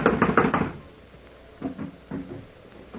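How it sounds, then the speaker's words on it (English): A locked door is knocked on as a radio drama sound effect: a quick cluster of four firm raps, a pause, then two softer single knocks, near and dry with no voices. "I'm going to knock."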